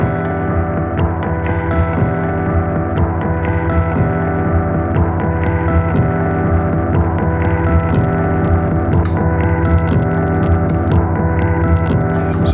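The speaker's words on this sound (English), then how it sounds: "This is kind of a feedback sort of thing" A Loupé effects unit is driven into feedback self-oscillation, space-echo style, making a loud, dense, throbbing drone with layered sustained hums and scattered crackly bursts that continue for the whole stretch without talk.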